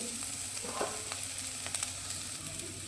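Chopped garlic and onion fry in a pan for a bitter gourd curry, making a soft, steady sizzle with a few faint crackles, quiet and uninterrupted by talk.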